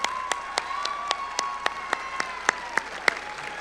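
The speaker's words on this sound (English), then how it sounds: "Let's give them a round of applause." A graduation audience applauds school staff, with steady clapping in the room and sharper single claps standing out at a regular beat over a sustained tone.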